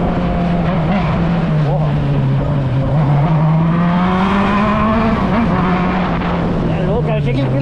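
A Honda Hornet motorcycle engine drones loudly and continuously on a ride, its pitch rising and falling with the throttle, heavy wind rush around it.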